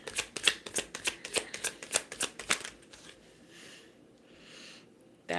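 Tarot cards are riffled and shuffled in a rapid run of crisp, close flutters and slaps during a reading, followed by quieter soft rustling of the deck.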